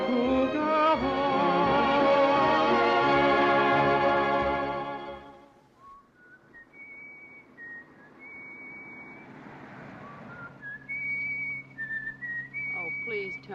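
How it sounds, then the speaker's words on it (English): After sustained orchestral music fades out, a man whistles a tune in short melodic phrases, clear and fairly close, with quiet room sound between notes; the scene comes from a 1943 American drama film. "whistle something else"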